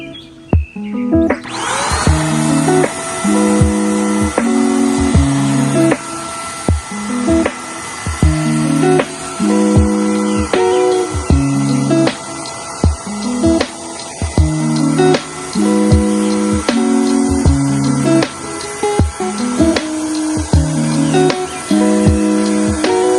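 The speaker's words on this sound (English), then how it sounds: "begin to spray paint." A continuous pressurized hiss of a paint sprayer spraying paint holds throughout, over a repeating mechanical thumping pattern, loud and close with no voices.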